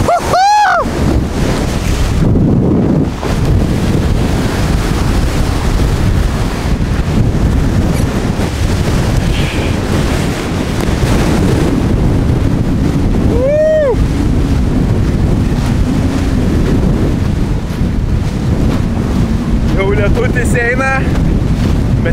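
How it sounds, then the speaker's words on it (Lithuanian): Strong wind roars steadily against the microphone over rushing sea water near the Krakatau volcano as a storm approaches, with brief voices calling out now and then. "puola dar žiauresnis vėjas."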